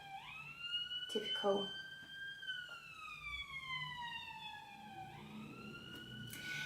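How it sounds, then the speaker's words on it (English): An emergency siren wails outside at a moderate distance, its tone sliding slowly up and down for several seconds. A voice briefly speaks over it. "sorry about the siren by the way"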